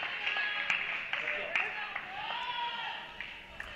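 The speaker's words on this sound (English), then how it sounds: "players from both respective teams cheering on their teammates" Women's college tennis players cheer and clap for teammates during a close tiebreaker on an outdoor court, with scattered claps and shouts over a steady murmur of crowd voices.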